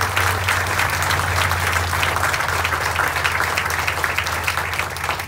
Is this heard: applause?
yes